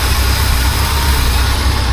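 A BMW 2002 engine held at roughly 3,800 rpm, a loud, steady close-up drone with a dense low rumble and no voices.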